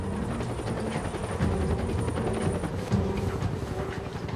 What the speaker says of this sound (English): the helicopters aren't looking for them where they are. They're flying over on their way to a search grid on the other side of the mountain